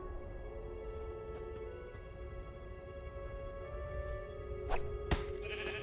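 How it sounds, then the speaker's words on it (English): Sheep bleating in the Minecraft Story Mode video game, a few nasal bleats rising over a steady tonal game music bed, moderately close and fairly quiet, with a brief sharp sound effect near the end and no speech. "A sheep?"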